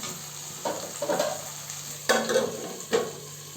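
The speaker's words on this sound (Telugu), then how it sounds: "టమాటాలు బాగా వేగాలి టమాటాలు బాగా మగ్గనివ్వాలి మూత పెట్టి బాగా మగ్గనిచ్చాలి" Tomatoes cooking in a pan for country chicken curry give a low steady sizzle, broken by a few distinct scraping stirs of a spoon against the pan, close and fairly quiet with no talk.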